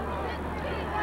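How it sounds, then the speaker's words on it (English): Geese honking overhead as they fly south during a Thanksgiving Day football game, the calls faint and blended into steady crowd and field noise through a short stretch. "Geese going south."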